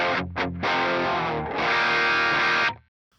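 Electric guitar through a Mooer Blues Crab overdrive pedal with the tone knob turned to an extreme: a loud, thick, distorted chord with a couple of quick re-strikes, then a sustained ringing note that cuts off abruptly.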